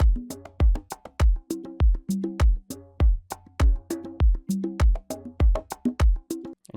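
A layered conga and percussion loop plays together with core drums for a relaxing desert house track, giving a steady, loud, repeating groove of sharp hand-drum hits and punchy beats with no voices.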